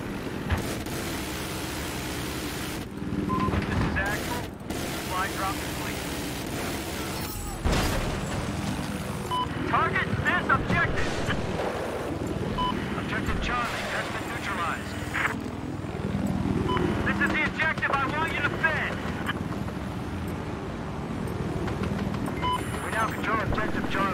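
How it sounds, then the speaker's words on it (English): Scout helicopter in Battlefield 4, a continuous rotor and engine drone with bursts of gunfire and explosions, heard under ongoing player talk for the whole stretch. "helicopter."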